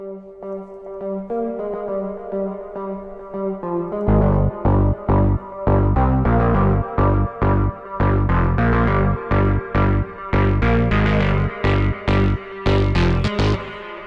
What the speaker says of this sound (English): So I'm using Abderian Pluck 1 here inside of Syntronic 2 for the patch.